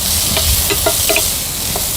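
Ginger, garlic and a third ingredient sauté in a pan for a brinjal thokku, giving a loud steady sizzle with a few light stirring clicks and no voices.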